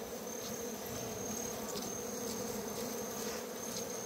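Bees buzz around an opened hive as honey is harvested at night, a steady, moderately faint insect drone with a few louder buzzes passing close.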